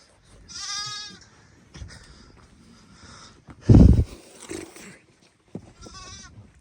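Sheep bleat several times in short wavering calls during lambing, with a loud nearby thump and rustling between them.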